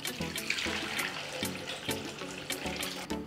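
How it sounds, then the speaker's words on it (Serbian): Hot water poured into a pot holding jars for pasteurising, a steady close rush of running water with rhythmic clinks of the glass jars repeating throughout. "sipat ću vodu do visine poklopca, ali neću sipati hladnu, pošto je vreo preliv, već vruću vodu"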